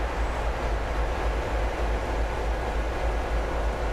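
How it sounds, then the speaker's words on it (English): Train engines in Train Sim World 6 on the Riviera Line drone steadily, a loud, close, unbroken low rumble with hiss and no breaks. "those engines are really loud"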